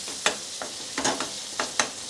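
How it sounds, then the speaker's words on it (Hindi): Tomatoes fried with ginger, garlic and onion sizzle steadily in a pan while a spoon stirs them, giving a few scraping strokes at an uneven rhythm close by, with no talking. "इस तरह से चम्मच में चलाते रहूँगी"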